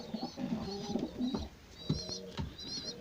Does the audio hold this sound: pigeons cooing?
yes